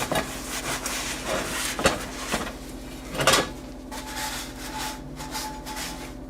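Paper towel rubbing oil over a cast iron æbleskiver pan, a close, continuous dry scrubbing and swishing with a few sharper knocks as the pan shifts.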